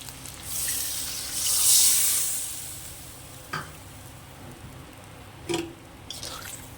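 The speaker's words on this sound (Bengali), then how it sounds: "তো এবার আমি পরিমাণ মতো জল দিয়ে দেব।" Water poured into a pan of sizzling fish and bitter gourd curry masala with potatoes, a loud hissing surge that fades to a low simmer, followed by a few brief stirring scrapes close by.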